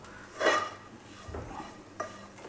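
Pork with chili and coriander powder roasting in a pan for a Thrissur-style pork and koorka dish, a soft sizzle broken by a few scraping stirs of a spoon against the pan.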